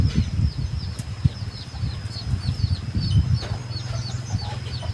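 A small decoy rooster makes soft, repeated clucks and chirps close by over a low, steady rumbling background, with brief wing-like rustles.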